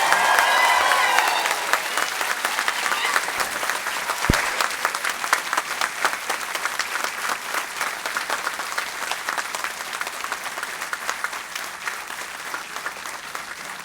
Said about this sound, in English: Now you all may now give applause and claps for all degree recipients.